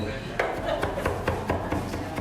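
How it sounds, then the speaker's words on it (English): A kitchen knife chops fresh garlic on a cutting board during a Mexican cooking class, a steady run of close, crisp knocks at an even back-and-forth rhythm, about eight strikes in quick succession. "Yeah, back and forth, chopping it up."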